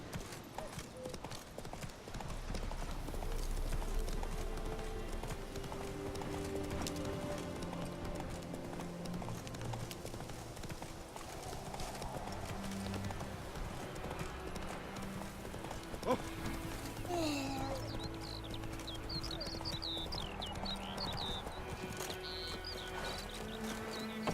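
A horse's hooves clip-clop at a steady trot in Witcher 3 Wild Hunt, rhythmic and continuous over soft ambient game music, with a brief whinny partway through.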